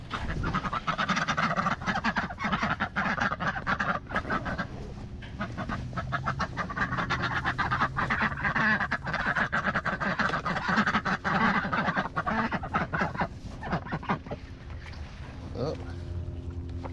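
Ducks quacking and chattering while they eat bugs and food on a morning walk, a busy, continuous flock sound close by, with someone talking over it.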